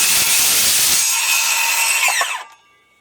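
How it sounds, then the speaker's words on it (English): A saw cutting the lug off a wooden Langstroth bee frame, heard as a loud, close, steady buzzing cut for about two seconds that then winds down and stops. "now I will cut the lug off so it's not in the way for the frame."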